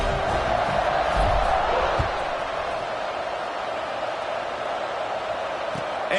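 A football stadium crowd cheers before a kickoff, a continuous broad roar that swells briefly then holds steady, with a commentator speaking over it.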